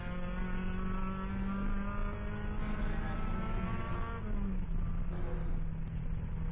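A 2002 Ford Ranger pickup race truck braking into a turn on a road course. The engine note is steady and droning, its pitch slides down as the truck slows, and the sound is heard through an in-car recording.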